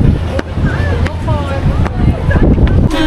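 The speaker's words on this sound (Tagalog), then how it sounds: "Sumasalpok sa mukha yung hangin." Strong gusting wind buffets the microphone on a swaying cable car ride up Fansipan near Sapa, Vietnam, a loud continuous roar with low rumbling and occasional high whines, while a person talks over it.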